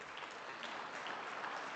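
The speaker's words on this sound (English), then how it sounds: "you don't have to applaud for that" Audience applause at a talk, steady clapping from a crowd throughout, fairly loud and continuous with no speech over it.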